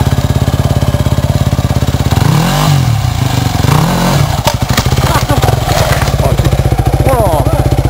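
An enduro motorcycle on a trail ride at Axat passes quickly: a loud, close, buzzing engine that revs and rises in pitch as it goes by, with people talking underneath.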